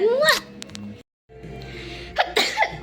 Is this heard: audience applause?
no